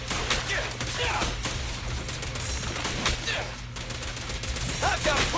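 Rapid game gunfire from Zenless Zone Zero crackles in dense, continuous bursts with sharp transient hits, loud and close, layered over battle effects and some character voices.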